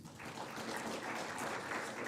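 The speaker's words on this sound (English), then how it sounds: "We can also applaud after everyone as well." Audience applause at a university state-of-the-university address, a steady wash of clapping throughout, moderately loud with no pauses.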